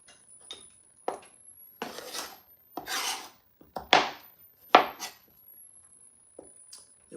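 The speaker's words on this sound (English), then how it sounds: "we're just going to do a little slicing on here" A knife slices through a cucumber for a loaded garden salad, giving a series of short, close cutting and scraping strokes in an irregular rhythm, with no talking.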